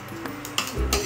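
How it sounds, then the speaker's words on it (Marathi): Sesame seeds dry-roasting in a pan for curry leaf chutney, with a spoon scraping and stirring through them, a brief close rustle and soft sizzle, no talking. "तीळ पण भाजून घेऊया"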